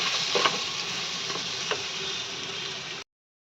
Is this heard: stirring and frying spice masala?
yes